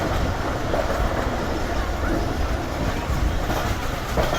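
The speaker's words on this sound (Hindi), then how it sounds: "और इस रेल कोच के लिए रिलीफ ट्रेन भी आ गई है भाई, AG30 के साथ।" A relief train hauled by an AG30 locomotive rolls into a station in Pakistan, giving a steady, loud rumble with rattling carriage noise that continues throughout without a break.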